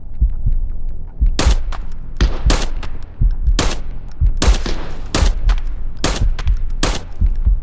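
Pistol shots in the shooter game Arena Breakout Infinite: about nine sharp, loud reports fired one after another in an uneven rhythm over a low, steady background rumble.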